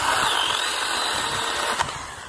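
STIHL GTA26 cordless garden saw cutting through a small garden branch, a steady close whirring motor with a brief snap near the end as the branch gives way.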